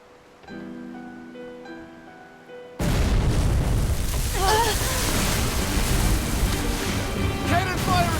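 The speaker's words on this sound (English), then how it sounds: "Cannon fire astern!" In the Tales of Berseria video game, quiet music gives way abruptly to a loud, sustained booming barrage of cannon fire with crashing impacts, and voices shout beneath the rumble.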